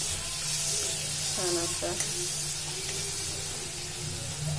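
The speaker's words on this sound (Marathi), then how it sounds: "त्यातच आपण हे बेसन पीठ थोडंसं फ्राय करून घेणार आहोत" Gram flour frying in a little oil in a pan for a paneer curry, a steady close hiss and sizzle throughout, with a brief spoken remark over it.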